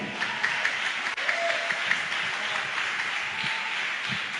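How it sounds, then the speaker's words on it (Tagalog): A church congregation claps together during a worship service, a dense continuous wash of applause that stays steady and fairly loud throughout. "Parang mahina yata yung palakpak natin."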